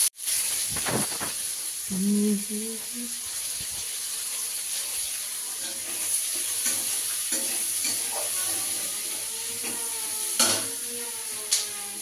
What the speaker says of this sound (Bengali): গরম তেলের মধ্যে তেলটা রসুনটা দিলাম, স্লাইস করে টমেটো মানে ভালো করে ফ্রাই করবো